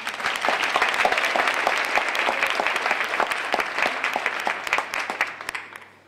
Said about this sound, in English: Clap if you can feel it too.